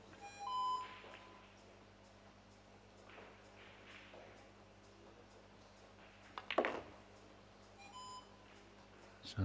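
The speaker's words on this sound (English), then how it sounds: "there is a beeping shot clock. It beeps once at 10 and then it starts beeping continuously for 5 seconds" A pool shot clock at a youth European Pool Championships table gives a few short electronic beeps, faint and spaced apart, over a low steady hum of the hall.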